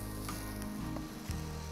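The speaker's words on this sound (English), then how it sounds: "Hear the nice little sizzle." Chopped onions sizzle in foaming butter in a hot pan, a steady close hiss that runs throughout with a few faint clinks from the pan and no talking.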